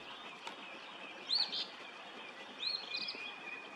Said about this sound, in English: Nearby, an eastern Phoebe was perched and singing.